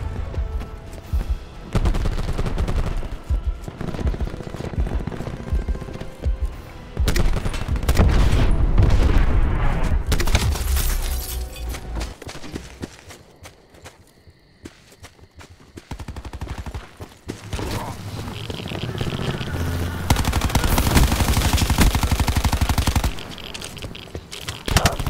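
Dense, loud automatic gunfire and explosions in a Call of Duty Black Ops 4 multiplayer match, with rapid bursts, booms and a brief quieter lull midway.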